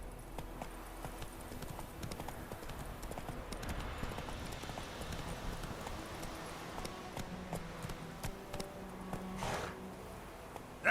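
Hooves of Roach the horse in The Witcher 3, a steady rhythmic clip-clop running across the whole stretch, moderately close, with ambient game sounds in the background.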